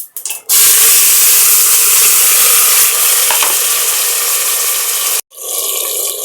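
Shallots, tomato and green chillies sauté in hot oil with cumin, giving a loud, close, continuous sizzle and hiss. The sound drops briefly near the start and again near the end.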